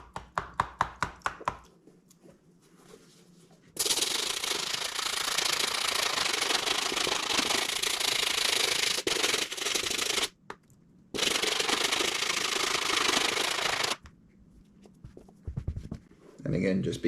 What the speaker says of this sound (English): moving on to the stiff bristle brush, and always start on the shoes with the sole